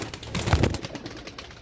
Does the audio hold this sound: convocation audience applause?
no